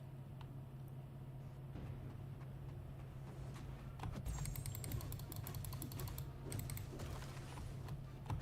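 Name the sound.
computer mouse clicks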